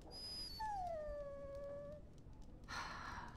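Dog in the video game Dragon Age Origins giving a long, high whimpering whine that slides downward, followed by a short breathy huff, nearby and alone.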